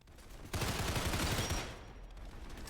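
Submachine gun fire from a PPSh-style barrel in a video game, a dense burst of rapid automatic shots starting abruptly and rattling on close and loud, then tapering into a softer rolling tail.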